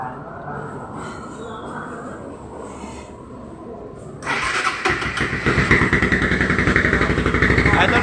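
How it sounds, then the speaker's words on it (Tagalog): A motorcycle fitted with an Apido V4 silent killer exhaust pipe is quiet at first, then starts about halfway through and idles loudly with a pulsing, choppy exhaust beat and small revs, close by. "ito nga pala yung sound check ng Apido silent killer pipe mga boss"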